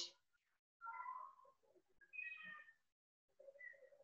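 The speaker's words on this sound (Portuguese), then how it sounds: "Meu gato." A house cat meowing several times in a row with drawn-out, wavering calls and short pauses between them, faint and fairly close with no talking.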